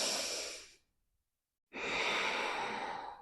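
Slow, deep breathing during a short full-body yoga warm-up, a long airy exhale, a silent pause, then a full inhale, close and alone.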